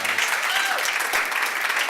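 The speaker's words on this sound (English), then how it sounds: "let's give him a clap" A roomful of people at a property-investment seminar applauds a speaker with loud, continuous clapping that fills the whole two seconds at an even level.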